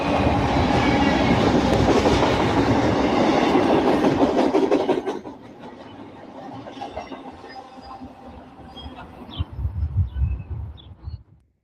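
BNSF intermodal freight train rolling past close by on the Southern Transcon, a loud steady roar of wheels and cars that cuts off abruptly, leaving faint rail clatter and birds behind.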